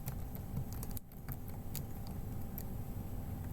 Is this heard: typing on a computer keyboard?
yes